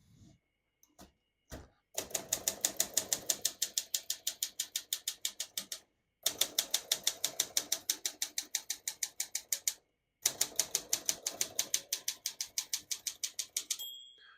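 Rapid, steady keystrokes clatter on a 1962 Olympia SM7 portable typewriter, three close bursts of even mechanical clicks separated by brief pauses, with no voices.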